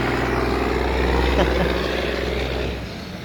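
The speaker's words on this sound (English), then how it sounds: "Big loud truck." A big, loud truck rumbles past outdoors beside a turf research area, a steady heavy engine drone that stays strong before easing off near the end, with a voice briefly heard over it.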